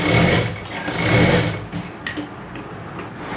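A sewing machine stitches a blouse seam, running in a fast steady whir with a tight mechanical rhythm, then slowing into softer, uneven clicks and ticks near the end.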